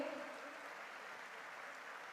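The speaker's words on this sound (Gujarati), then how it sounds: "ખૂબ તાળીઓના નાદ સાથે સ્વાગત કરીએ છીએ" Audience applause at a foundation-stone and felicitation ceremony, welcoming the governor: a steady, dense wash of clapping from a crowd, fairly faint and distant throughout, with no talk over it.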